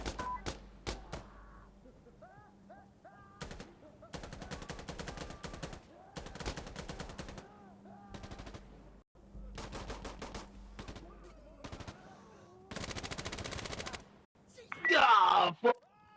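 Gunfire in the video game Insurgency Sandstorm, with rapid automatic bursts and scattered single shots repeating across the scene, plus a few harsher blasts, while voices talk and shout over the action.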